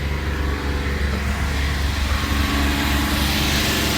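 A car engine held at a steady 3000 RPM during a dynamic engine cleaner test, a loud, constant, close drone with no change in pitch and no voices.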